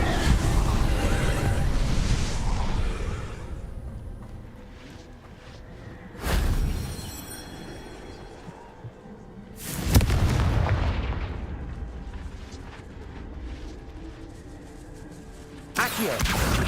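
Confringo blasting spells in the Hogwarts Legacy video game go off as three heavy booming explosions, each a sharp burst trailing into a long rumble, loud and close over a continuous noisy background.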